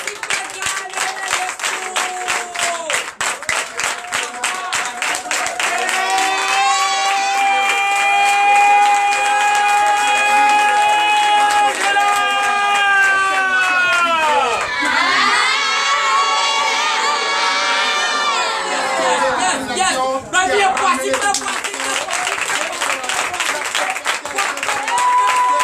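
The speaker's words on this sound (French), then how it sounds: "Je vais demander au peuple de Dieu de se lever" A standing church congregation at a night deliverance and prophecy service cheers, with a steady wash of clapping and crowd noise under sustained, loud, tonal singing and shouting voices.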